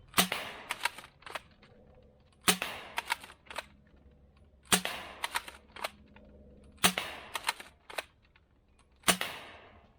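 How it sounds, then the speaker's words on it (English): A toy blaster with a T238 RGB tracer unit fires yellow darts in sharp snapping bursts, one rapid cluster of shots about every two seconds, crisp and close against a quiet background. "Let's go ahead and try the yellow darts from T238 and see how they do."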